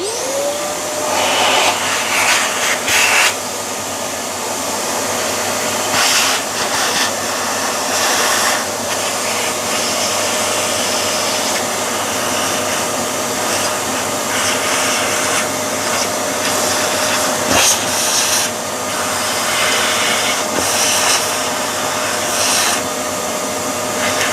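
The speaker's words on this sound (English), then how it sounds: "eventually I'm going to use a vacuum cleaner to vacuum out all this" A vacuum cleaner runs continuously and loudly up close, its steady whine broken by occasional bumps and scraping as it moves over surfaces.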